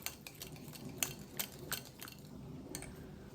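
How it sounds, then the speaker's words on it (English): A whisk beats face cream ingredients in a bowl, making quick close clinks and metallic taps against the sides at an uneven rhythm, with no voices. "It's whisking up really well"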